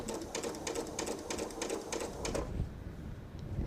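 A sewing machine stitches a log cabin quilt seam in a quick, even run of rapid needle clatter, close and moderately loud, then stops with a few soft handling noises.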